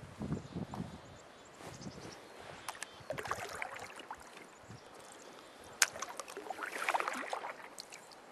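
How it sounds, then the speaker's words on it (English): A kayak paddle dips into calm water in a quiet outdoor setting, giving faint, irregular splashes and drips with soft rustling around them. "Just a nice peaceful way to get around here. Kayaking."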